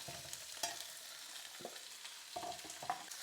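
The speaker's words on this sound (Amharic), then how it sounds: "ትንሽ ጠበስ እናደርገዋለን።" Meat and bones frying in a hot iron pot give a faint, steady sizzle, broken by a few soft clinks and scrapes of stirring.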